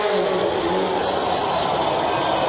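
A red rally car races through a series of turns at an X Games rally race, its engine loud and close, a continuous revving roar with gritty mechanical noise across the short stretch.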